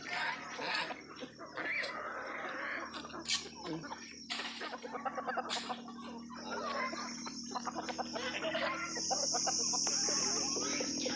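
Chickens cluck and a rooster calls in a village yard, steady scattered bird sounds under frequent nearby talking, with crickets or insects faintly in the background.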